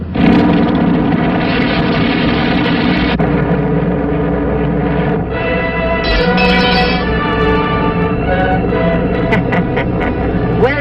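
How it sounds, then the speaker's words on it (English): A giant bomber aircraft taking off in a film, with a loud, dense engine roar that runs the whole time, layered with music and voices talking. "Giant bomber being stolen. Take off immediately."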